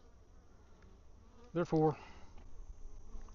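Honey bees buzz faintly and steadily around beehives during mite washing. The low hum runs under a single brief spoken word.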